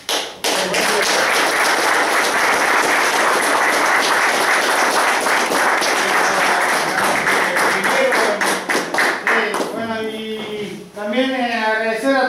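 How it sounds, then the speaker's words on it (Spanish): Loud crowd applause at the reopening of a model car racing track, dense and continuous, with scattered cheers, then voices break in near the end. "lo aplaudimos los dos"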